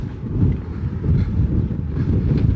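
Low, rumbling wind buffets the microphone in gusts at Lake Mead and Hoover Dam, a steady blustery roar with no voices.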